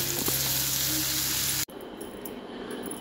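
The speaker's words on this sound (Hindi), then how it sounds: "फ्राई करते हैं" Star fruit and potato curry with garlic, onion and ginger fries in a pan, a loud, close, continuous sizzle that cuts off abruptly halfway, leaving quieter kitchen background.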